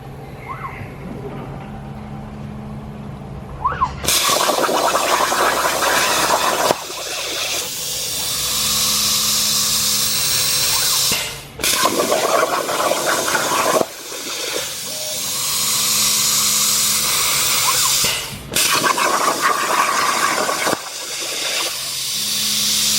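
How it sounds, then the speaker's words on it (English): Welding on a metal plate during construction of a historic bell house, heard as loud sustained hissing, crackling bursts of several seconds each, separated by short pauses. "So that was the last welding up on that plate."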